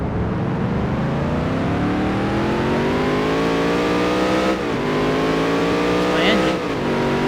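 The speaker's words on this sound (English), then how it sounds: "Let me hear that engine, man." A NASCAR race car engine in the Dirt to Daytona video game revs steadily upward, its loud buzzing harmonics climbing in pitch. Two short dips in pitch come near the end as it stays at full throttle.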